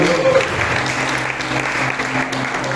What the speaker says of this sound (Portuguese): E as palmas todas de Jeová Jireh nessa noite.